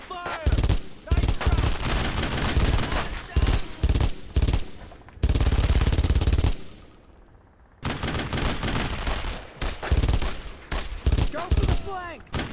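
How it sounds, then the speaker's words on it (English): Sustained suppressive gunfire rages in a Brothers in Arms: Road to Hill 30 World War II battle, with dense overlapping rifle and machine-gun bursts. Brief gaps and one short lull break the firing, and shouted squad commands come in between. "No one stops firing! Suppressive fire!"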